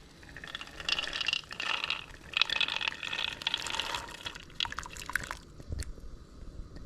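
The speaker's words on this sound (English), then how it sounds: "Now we're going to just pour our berries in." Manzanita berries and liquid splash and slosh as they are poured into boiling water, followed by a few wet drips and a final plop.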